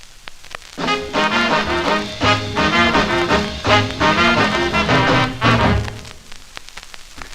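A 45 rpm vinyl record, a doo-wop R&B song, plays loud and steady, with rhythmic vocal and band phrases that fade out near the end.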